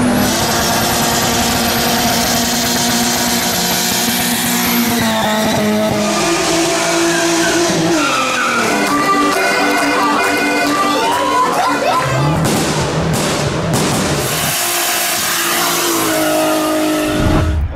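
Cars doing burnouts at a crowded Woerthersee car meet: loud, continuous engine revving with rising and falling pitch, tyre squeal and a cheering, shouting crowd throughout, all close and heavily saturated.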